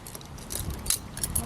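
Keys jangle briefly in a hand beside a Nissan R33 that will not run, light metallic clinks in a couple of quick bursts, close and fairly loud.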